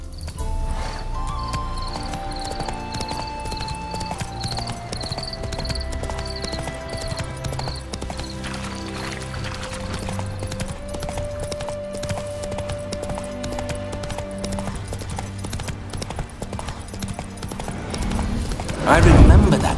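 Roach, a horse in the video game The Witcher 3: Wild Hunt, galloping with steady clip-clop hoofbeats under constant game music, crickets and ambience throughout, ending in a louder rush.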